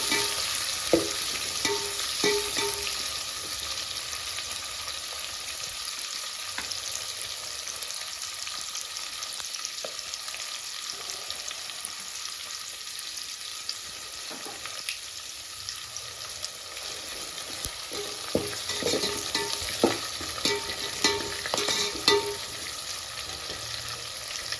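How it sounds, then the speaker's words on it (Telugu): Five green chillies frying in a pan until golden, a continuous hiss of sizzling oil with sporadic spatters and stirring clinks, close and steady for a long stretch without speech. "ఐదు పచ్చిమిర్చీలు వేసుకుందాము గోల్డెన్ కలర్ వచ్చేంత వరకు."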